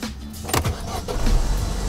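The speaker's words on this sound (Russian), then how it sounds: "Нажимаем тормоз сцепления," A manual-transmission car is started, giving a short cranking burst and catch, then a low idling rumble that swells slightly, with a faint mechanical whir at the end; no talking.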